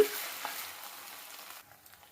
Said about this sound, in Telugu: పచ్చి పోయే వరకు అయితే ఫ్రై చేసుకున్నామండి